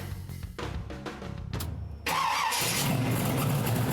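A car engine cranks and fires, then settles into a loud, deep, throaty idle through aftermarket Borla mufflers, close and steady.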